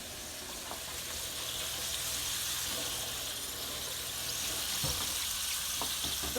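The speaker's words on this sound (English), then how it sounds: "Let me give my hands a little wash here." Tap water runs steadily as hands are washed at a kitchen sink, a broad hissing rush close by with a few small clunks, while something fries quietly in the background.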